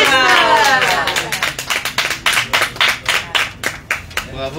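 Applause from an audience for fado singers and guitarists at a Paris event, a dense burst that thins into scattered, separate claps by the end, with voices faintly audible underneath.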